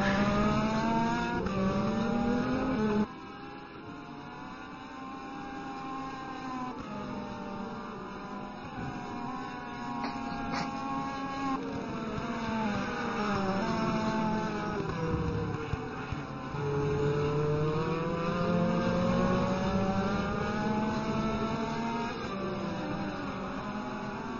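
Race car engines in a sim racing game at Daytona, including a slightly modified Ferrari F430 GT2, scream continuously at high revs, pitch rising and falling through gear changes as cars pass, loud and sustained throughout.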